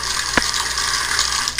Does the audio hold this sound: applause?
no